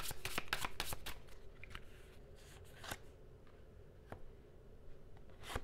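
Tarot cards shuffled by hand in a flurry of quick, crisp riffles up front, then a few sparse, isolated flicks and snaps, close and alone with no talking.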